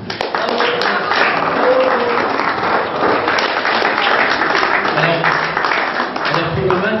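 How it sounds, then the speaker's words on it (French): Audience applause follows a post-match speech at a sports club, dense clapping with a voice talking over it throughout. "très sincèrement, vous pouvez les applaudir"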